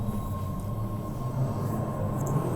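A subway train runs steadily near Kendall Square station, a continuous low rumble with a faint high whine, heard alone without talk.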